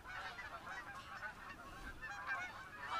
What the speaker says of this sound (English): Oh, there's a goose right there, look. It's coming into land.